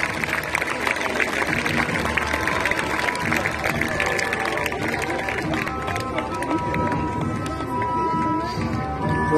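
A crowd applauds at an outdoor historical festival in Vienne, Isère, a dense, steady wash of clapping filling the whole stretch with scattered voices mixed in.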